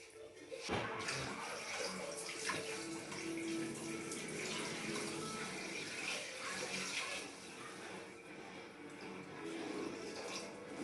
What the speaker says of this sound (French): donc là on va mettre 1200 g d'eau